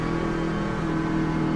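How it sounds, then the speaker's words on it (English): A loud race truck engine roars steadily up close on a restart, a dense continuous drone with a slight rise in intensity toward the end. "listen to the engine. Here we go."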